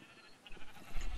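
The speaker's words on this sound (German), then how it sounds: "Warum, was macht das Schaf im Kuhgehege?" Sheep bleating in the Minecraft video game, a short low bleat rising toward the end of a brief, fairly quiet moment with no talk.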